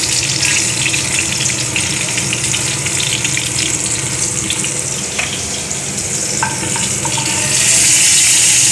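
Pomfret fish fry loudly in hot oil, a dense continuous sizzle and crackle close by, with occasional sharper pops and a brief surge near the end; no one speaks.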